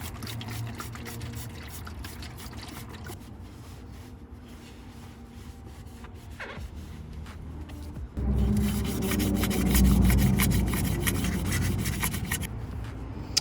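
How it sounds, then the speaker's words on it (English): Steady abrasive sanding of a Nissan 370Z brake caliper still on the car, rubbing and scraping against metal, continuous and close, growing louder and coarser in the second half. "hopefully I'm sanding it good enough for the primer"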